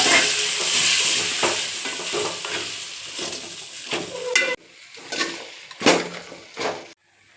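Mutton pieces sizzle in hot oil while a spoon stirs and scrapes the pan, loud frying at first, then fading into intermittent scraping bursts with quieter gaps.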